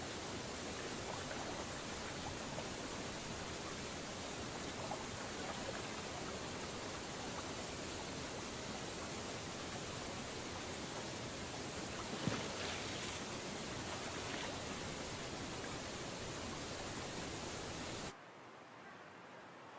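A river of snowmelt rushing through the high Sierra mountains, a dense, continuous broadband roar of flowing water heard up close and steady throughout, with no voices.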